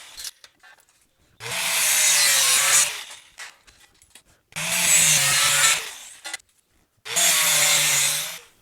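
Three long, loud bursts of a power saw cut through rectangular steel tube, each lasting one to two seconds, with short quiet gaps between them.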